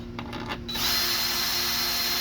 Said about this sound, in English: I don't like to tighten stuff a whole lot with the electric drill